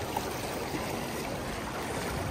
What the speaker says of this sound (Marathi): वाहतं पाणी आहे खूप वसत. खाडी खाडी.